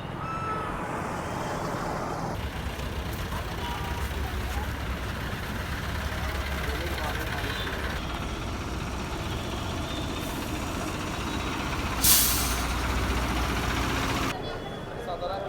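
A traffic jam of trucks and buses near Prayagraj during the Maha Kumbh gives off a constant low engine rumble and idling drone, with a voice talking over it.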